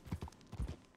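Horse hooves clip-clop at a quick gait in the video game Red Dead Redemption 2, two quick pairs of soft, close thuds within a second, with no talking.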